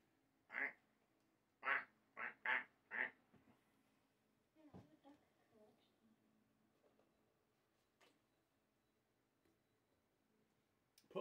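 Ducks quack loudly near a lean-to in a home woodworking setting, a quick run of about five sharp calls at the start, then softer scattered sounds and faint background noise.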